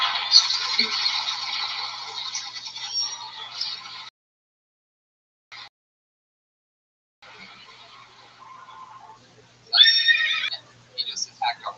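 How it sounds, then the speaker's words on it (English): Horse neighing sound effect, loud whinnies with a strained, trembling texture, a long one at the start, a short burst midway, then a sharp high neigh near the end, heard alone without talk. "He just attacked a horse there at the end"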